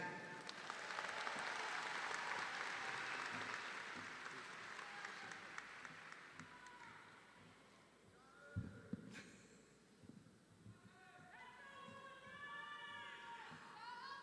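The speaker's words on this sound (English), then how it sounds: "let's give it up and have a big round of applause" An audience at a high school graduation ceremony claps in a sustained wash of applause that gradually fades, with cheers and a voice speaking over it toward the end.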